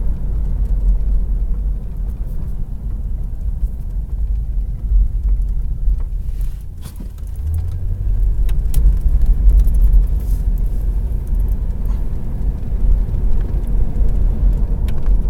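Engine of a 1985 Chevy Caprice Classic station wagon accelerating on the road, a steady loud low rumble heard from inside that briefly dips and then swells again as the throttle opens.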